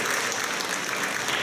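A crowd applauds in the Teatro Lauro Rossi in Macerata, a dense and steady wash of clapping that holds throughout the brief moment.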